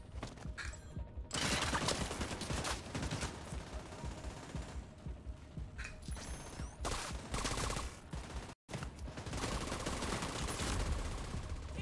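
Sustained gunfire in The Division 2, a third-person shooter, with dense rapid bursts of automatic fire rattling almost continuously for about twelve seconds, loud and close, broken only by a brief drop near the end.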